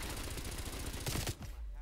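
Rapid automatic fire from an MP5 submachine gun in a free-for-all shooter match on the Satellite map, a dense close burst that cuts off abruptly near the end.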